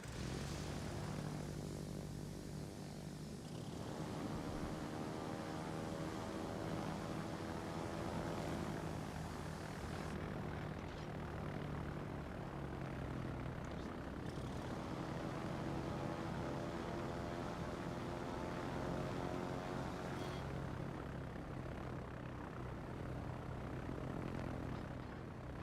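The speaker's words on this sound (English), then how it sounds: "we'll get the planes back up for another attack run" Propeller engines of attack planes drone steadily in the World of Warships naval combat game, a continuous loud harmonic hum with shifting pitch across the whole stretch and no talking.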